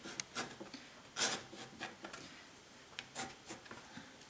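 Brush or tool scraping wet paint out of watercolor paper in a rainy spring landscape painting, a series of faint, dry rubbing strokes at an uneven pace, close up and quiet.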